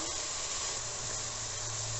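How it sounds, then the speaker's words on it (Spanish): Chicken pieces fry in a pan for a Peruvian chaufa rice dish, giving a continuous, even sizzling hiss of hot oil, quiet and steady with no speech. "Acá estamos friendo ya el pollito."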